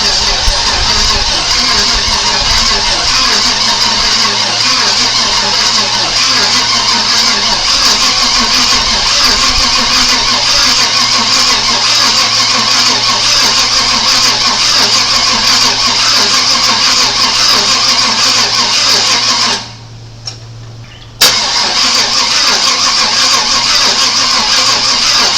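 Engine of a 1997 Chevy Suburban cranks steadily without catching, a continuous loud droning churn for about twenty seconds. It cuts out briefly, then the cranking resumes.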